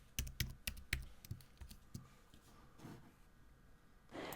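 Spreadsheet formula being typed on a computer keyboard, a quick run of crisp close key clicks that thins out into fainter taps.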